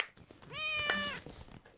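A single drawn-out cat meow, clear and fairly close, rising then falling in pitch, with faint background noise around it.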